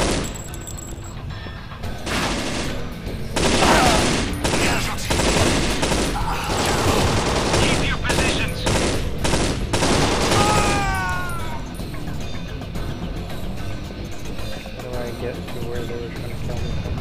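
Rapid gunfire bursts from a first-person shooter set in a steelworks refinery, loud and dense for about ten seconds, then thinning to scattered shots with game noise and speech over it.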